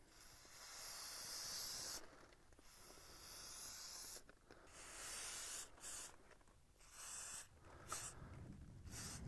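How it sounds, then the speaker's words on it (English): A steady, loud hiss of Gun Scrubber aerosol cleaner sprayed onto a Winchester SX4 semi-auto shotgun in several long bursts separated by brief pauses, close up, with no talking. "I'm going to take the gun scrubber and spray everything off real well."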